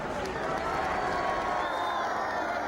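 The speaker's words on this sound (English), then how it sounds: "acknowledging the cheers of the crowd aboard Simonsig" A large racecourse crowd roars and cheers at the Cheltenham Festival for the 2013 Arkle Challenge Trophy Chase, a steady, dense wall of distant cheering with commentary over it.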